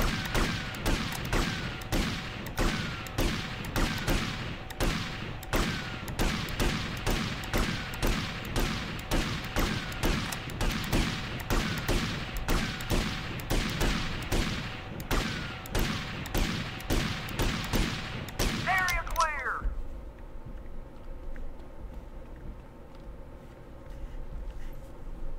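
Repeated gunfire at a shooting range in GTA Vice City: a long, rapid, evenly spaced string of loud shots that continues for about twenty seconds, then stops abruptly, leaving a low background hum.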